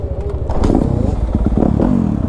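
A Yamaha YZ250F four-stroke dirt bike engine revs and burbles close by, its throttle blipping in rapid pulses with a rough, throaty rasp.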